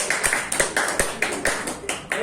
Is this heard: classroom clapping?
yes